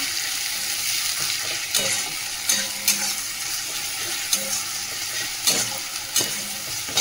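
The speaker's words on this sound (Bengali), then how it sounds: "এই আদা রসুন বাটা দিয়ে দিলাম, আদা রসুনটা একটু নেড়ে নিতে নিতে।" Ginger-garlic paste sizzles steadily in hot oil with already well-fried onions, with a spatula scraping and tapping the pan at irregular intervals, close and alone.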